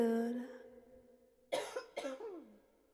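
A person coughs twice in quick, harsh bursts on a livestreamed song-request night, right after a sustained vocal tone fades out.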